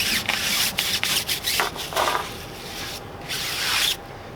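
A tire brush scrubs gloss black wheels on a Ferrari 488 Spider during detailing, making close, rhythmic rubbing strokes in short bursts with brief pauses.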